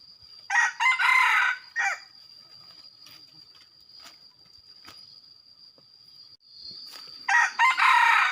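A red junglefowl rooster used as a decoy for catching wild chickens crows loudly and close by, in bursts near the start and again at the end, with quieter rustling and faint clucks in between.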